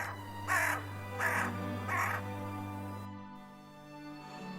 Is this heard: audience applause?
no